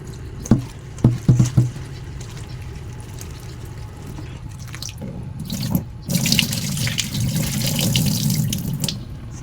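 Taro leaves are washed and rinsed by hand under a running kitchen tap, with a few soft splashes and handling knocks at first, then a steady, louder stream of water filling and pouring for the last few seconds.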